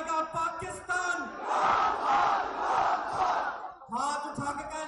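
Large political rally crowd at a long march gathering in Mozang, Lahore, roaring and chanting a slogan in unison, with a lead voice calling out between swelling, sustained crowd responses.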